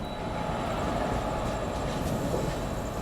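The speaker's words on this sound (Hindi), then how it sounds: "WAP4 locomotive" Broadband rumble of a WAP4 electric locomotive train at New Jalpaiguri station, a steady, loud rolling roar with faint metallic overtones and no clear clatter, continuous throughout.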